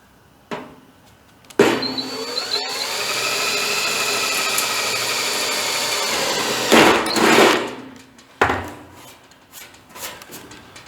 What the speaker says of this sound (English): I gotta drill these holes and tap them